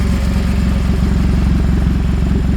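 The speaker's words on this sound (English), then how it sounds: "Got a little exhaust leak." A 2018 Nissan Altima SR 2.5L engine idles steadily with a rumble, an exhaust leak at the manifold making a rapid rhythmic ticking pulse throughout, loud and close, no voices.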